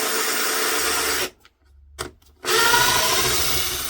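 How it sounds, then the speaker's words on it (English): A power tool whirs loudly, drops out for about a second with faint clicks, then roars again while screws are removed from a Crossley 1040 engine head. "Let's take them screws out because they're going to annoy me if not."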